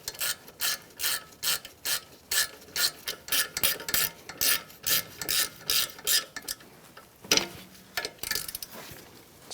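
A hand ratchet tightens the front strut bolt on a 2012-2018 Ford Focus during a strut and spring assembly replacement, giving rapid rhythmic bursts of pawl clicking, close and clear, with a brief metallic knock near the end.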